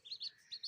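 Myna birds give four quick, high chirps in two pairs, short and fairly faint, with no voices.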